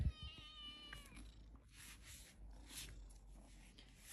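A kitten gives one short, high meow up close at the start, and quiet rustling and rubbing follow in a calm room.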